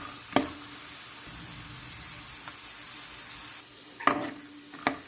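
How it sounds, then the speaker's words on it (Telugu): Peanuts fry in oil in a pan, giving a steady low sizzle broken by a few sharp clinks and knocks of a spoon against the pan, with no voices. "ఈ పల్లీలు చక్కగా వేపేసుకుందాము మనము"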